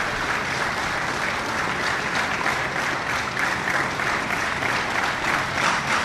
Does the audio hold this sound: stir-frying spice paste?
no